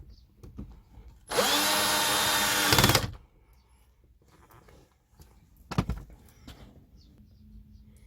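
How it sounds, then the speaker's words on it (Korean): A cordless power drill whirs steadily for about two seconds, driving a screw into a car air conditioner part, followed by clicks and a shorter burst of tool handling nearby. "또 세 번째 나사를 조이도록 하겠습니다."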